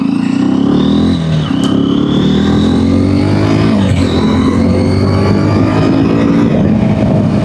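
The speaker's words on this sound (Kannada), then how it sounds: "ನಾ ಈ ಗಾಡಿ ಫಸ್ಟ್ ಟೈಮ್ ಓಡಿಸ್ಲತ್ತೀನಿ ಎಕ್ಸ್ಪಲ್ಸ್ 210." A Hero Xpulse 210 motorcycle being ridden, its engine loud and close with a steady droning note that rises as it accelerates through the gears, with wind rushing around it.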